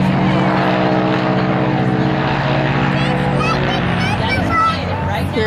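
A propeller airplane comes in on its approach to land, a loud steady droning engine hum close by that eases slightly toward the end, with background chatter from onlookers.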